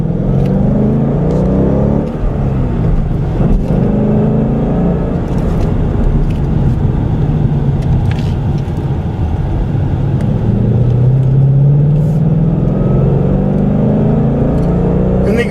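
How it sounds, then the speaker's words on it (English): A 2015 Ford Mustang GT with a V8 and six-speed manual revs up steadily while driving, its loud low engine note rising and falling continuously throughout, with no talk over it. "Yeah, this V8 really loves to rev."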